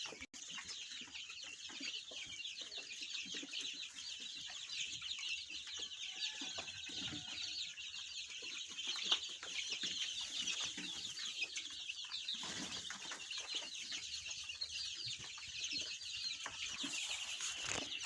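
Around 400 seventeen-day-old chicks being brooded in a poultry house of about 4 by 2 meters make a constant dense chorus of high peeping and chirping, steady and fairly faint, with occasional wing flutters.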